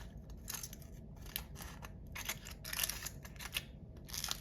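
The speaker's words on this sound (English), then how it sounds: "that should guide my scissors" Scissors snip through paper strips along a marked line in a series of quick, crisp cuts, close and fairly quiet, with no talking.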